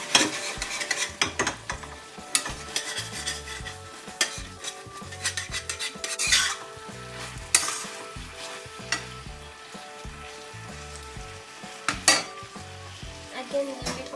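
Pork and Chinese celery sizzle in a hot pan while being stir-fried, with continuous frying hiss under repeated scraping and clinking of a utensil against the pan, close and lively.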